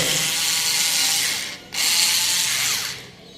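Screw being driven into an electric switchboard, a loud continuous grinding ratchet-like whirr that runs for over a second, breaks off briefly, then resumes before fading.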